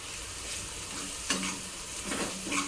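Papad vada mixture stirred in a pan over low gas, a steady sizzle of frying under a few scraping spoon strokes, close and moderately loud with no talking.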